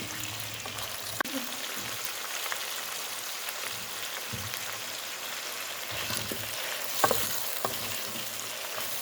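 Chicken frying in a pan on high heat gives a steady, crackling sizzle, with occasional sharper clatters from stirring.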